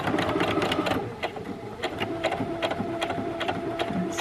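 A sewing machine back stitches a waistband seam on a pair of pants, giving a steady, close, rapid mechanical chatter that runs almost without a break.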